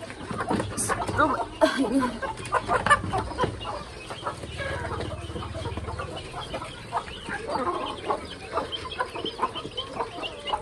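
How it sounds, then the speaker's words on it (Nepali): Chickens cluck and squawk close by, with frequent overlapping calls throughout, while people talk intermittently in the background. "तिमीहरू सबै खाने त हो नि देख्न सक्नुहुन्छ कुखुरा"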